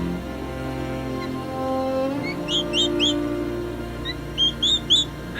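A young turkey poult chirps in short bursts of high, thin peeps, several quick calls, then a pause and another cluster, close by over a steady low background hum.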